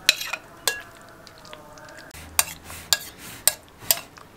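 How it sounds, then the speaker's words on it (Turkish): A spoon stirs garlic yogurt over eggplant in a deep bowl, giving a series of soft wet scrapes and clear ceramic clinks at an uneven rhythm, close up with no talking. "Sarımsaklı yoğurdumuzu güzelce karıştıralım."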